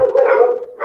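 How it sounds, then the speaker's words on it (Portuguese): Dogs at home in the late afternoon let out a brief, close, drawn-out howling bark that briefly fades and rises again. "fim de tarde, meus cachorros ficam doidos"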